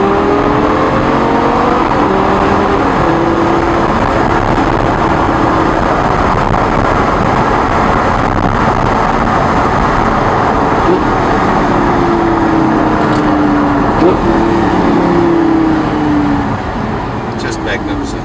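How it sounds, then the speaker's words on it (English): A latest-generation Lamborghini Gallardo accelerates hard on the road. Its engine drones loud and steady from inside the car, pitch climbing through the gears. "this is the latest generation Lamborghini Gallardo and the last generation"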